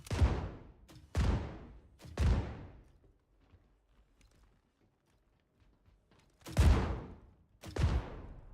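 Grenade launcher shots from the Star Citizen video game, five sharp loud blasts with decaying tails, three in quick succession, a quiet gap, then two more.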